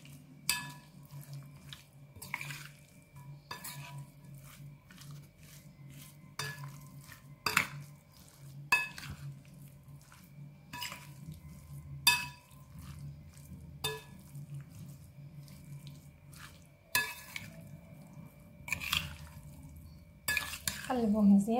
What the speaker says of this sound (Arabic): ودابا غادي نخلطو كلشي داكشي باش يشرب العطريه مزيان